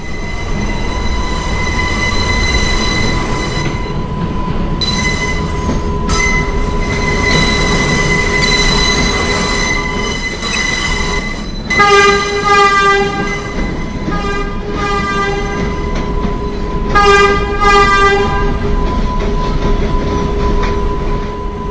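An R142A Bronx-bound 4 subway train pulls out and runs loud and close, motor whine and rail noise steady throughout, with sharp tonal wheel squeals rising in bursts partway through and again near the end.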